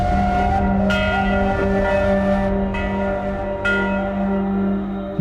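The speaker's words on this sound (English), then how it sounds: "a new church recently rang its bell for the first time" A newly installed church bell rings near the ancient city of Ur in Iraq, loud and close, with strong sustained tones and fresh strikes roughly every second, each hum overlapping the last as it decays.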